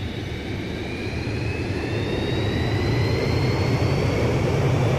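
Airliner jet engines spool up in a flight simulator game, a steady loud roar with a rising whine that climbs gradually over a few seconds.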